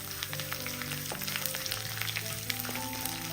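Chana dal, curry leaves and mustard seeds fry and crackle in a pan while being stirred, a continuous sizzle running beneath a soft melodic backing.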